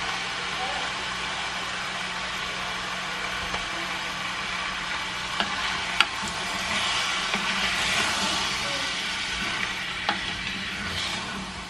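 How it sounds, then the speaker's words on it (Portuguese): Vegetables and tomato sauce fry in a pan with a steady, close sizzling hiss that runs the whole time, with a few small clicks and stirring sounds. "E agora eu vou deixar isso aqui fritando um pouco."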